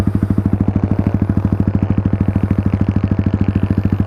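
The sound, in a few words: Yamaha MT-15 with Yoshimura Alpha open-pipe muffler exhaust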